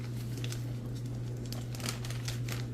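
A plastic Ziploc bag holding a fish coating mix crinkles as a piece of fish is tossed inside, giving repeated soft rustling bursts over a steady low background hum.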